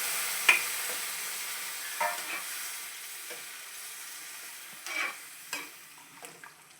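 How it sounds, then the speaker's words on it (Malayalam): Steady sizzling of tomato and white chickpeas frying in a pan for chickpea curry, with a few sharp stirring scrapes and clicks of a utensil against the pan. "നല്ലോണം ഒന്ന് വഴറ്റി കൊടുക്കാം വെച്ചിരിക്കുന്ന കടല ഇട്ട് കൊടുക്കാം"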